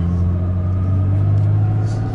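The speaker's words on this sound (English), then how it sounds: "My truck started." A pickup truck engine idling and running with a steady low rumble and droning hum, close by and continuous.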